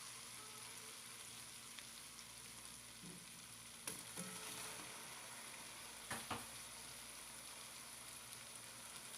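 One kilogram of chicken frying for chicken aloo pulao sends up a faint, steady hiss of sizzling oil, broken by a couple of soft clinks from stirring, with no voices.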